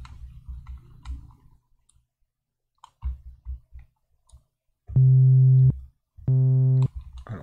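Synapse Audio The Legend software synthesizer playing with a single oscillator and effects off: two sustained, buzzy harmonic notes, each about a second long, preceded by scattered clicks and soft low mouse or keyboard sounds.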